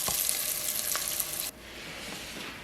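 Garlic sizzles in olive oil with a pinch of salt in a hot pot turned down to low heat, giving a loud, close crackling fry that drops abruptly to a quieter, steady simmer.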